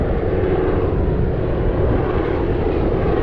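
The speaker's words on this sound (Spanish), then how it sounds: "Aquí nos vienen grabando desde un helicóptero." A helicopter flies overhead above a mangrove during a fishing trip, producing a loud, steady, broadband engine and rotor roar that stays constant and close.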